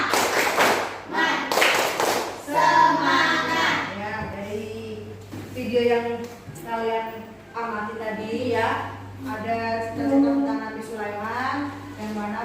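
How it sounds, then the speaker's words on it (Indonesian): A classroom group performs the tepuk semangat rhythmic clapping chant, with short bursts of sharp claps followed by children chanting and singing together in a patterned rhythm, voices dominating over the claps. "Ya, tepuk semangat."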